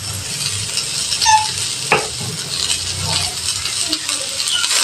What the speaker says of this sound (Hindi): इसको मैं हल्का सा सौते कर लूंगी।